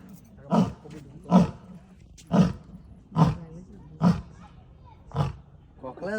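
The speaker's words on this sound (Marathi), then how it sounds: "शेरनी. लायन" Lioness in a zoo or safari enclosure roaring in six evenly spaced, deep grunting bursts, loud and close, with short pauses between each call.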